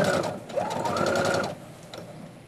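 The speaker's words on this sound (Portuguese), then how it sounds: "vou dar uma viradinha e já vou costurar" A sewing machine stitches fabric, sewing through the middle of a strip of ric-rac trim, with a steady close rapid whir for about a second and a half, then quieter handling noise.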